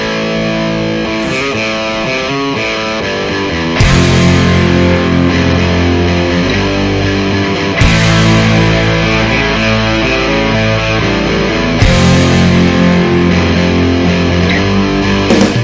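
A loud, full-band song plays continuously with distorted guitars and crashing cymbals marking regular phrases.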